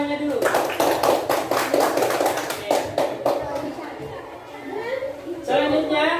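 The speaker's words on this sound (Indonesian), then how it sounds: "Kasih tepuk tangan untuk temannya dulu." Schoolchildren clapping for their classmates in a classroom, a few seconds of quick, loose group clapping fading out, with children's voices chattering and calling over and after it.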